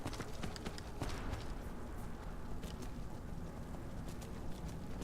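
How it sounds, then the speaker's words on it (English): Hooves of a skeleton horse with blue flames in Skyrim Dawnguard clip-clop in a steady, fairly quick gait, faint and continuous under game ambience. "Um cavalinho esqueleto com chamas azuis."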